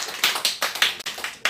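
Brief rounds of applause at an Atomy seminar in Jamsil, several bursts of clapping from an audience swelling and fading close by, with no voices over them.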